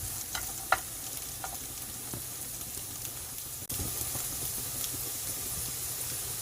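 Potatoes stir-fry in a pan with a steady, loud sizzle and hiss, broken by a few scraping stirs and one brief dip before the frying resumes.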